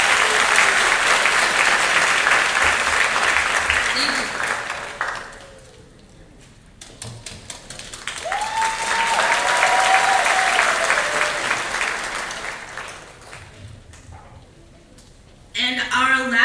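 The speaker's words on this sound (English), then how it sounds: "I would like to give a round of applause to Marcel Rivas" An audience applauds at an elementary school moving-up ceremony for a graduating student, a broad wash of clapping that swells, fades, and returns, with a brief spoken thanks near the start.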